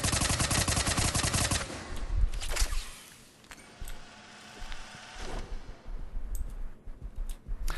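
Tempest submachine gun from Mass Effect 3 firing loud rapid automatic bursts, a dense rattling stream for about two seconds, then quieter scattered shots and clicks before more bursts return near the end.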